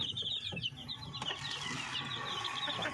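Chicks on a poultry farm chirping in quick high-pitched peeps, a small flock heard close but fairly quiet over a low background murmur.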